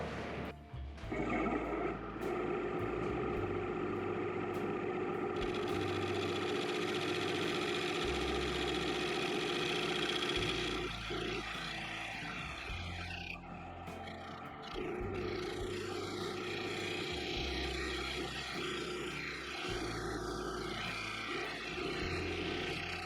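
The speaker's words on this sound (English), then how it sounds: "I want to try a little bit of shear scraping right there." Steady, loud roaring drone of a spinning lathe, with a continuous scraping hiss as a tool shear scrapes a maple burl bowl. The tone shifts in long sections while the cut goes on, close and unbroken, with no talking.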